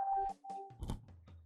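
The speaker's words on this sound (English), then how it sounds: "That was my phone." A mobile phone notification plays as a short series of clear electronic tones, followed by a soft thunk and low rumble, fairly quiet with no voices.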